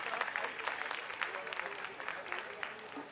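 Audience applause at a shehnai recital during the Dilli Durbar 2023 concert, a steady wash of clapping hands across the whole moment at moderate level, with a voice speaking over it.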